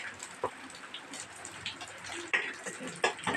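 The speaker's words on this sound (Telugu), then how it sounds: "ఇదిగోండి వర్షం" Rain falls steadily outdoors on an overcast day, with scattered drips and splashes striking nearby surfaces at close range.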